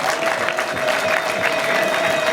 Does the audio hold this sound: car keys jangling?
no